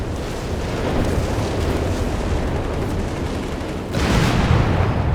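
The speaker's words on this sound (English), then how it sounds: "Whizbangs letting loose in the center here" Whizbang rocket artillery firing in the Company of Heroes 3 video game: a continuous roaring barrage of launches and blasts, dense and loud throughout, with a heavier surge of explosions near the end.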